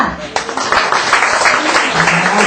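A church congregation applauds during a second-anniversary service, a dense wash of clapping that swells and holds for a couple of seconds while a voice talks over it.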